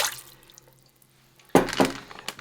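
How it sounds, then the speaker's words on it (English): Lukewarm water splashes into a stand mixer bowl for pizza crust dough, a close, sudden pour starting partway through after near silence, with a couple of bright splashing bursts. "I'm going to add 1 cup of lukewarm water"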